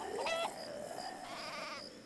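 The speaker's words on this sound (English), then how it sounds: "Oh, that's a sheep." A sheep in the video game Craft The World gives a short, wavering bleat, fairly faint and alone against a soft background.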